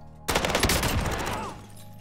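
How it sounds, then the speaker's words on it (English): Rapid bursts of automatic gunfire in Call of Duty: Warzone, a dense, loud fusillade that opens after a brief quiet start and then trails off into a fading rumble. "I hear gunshots."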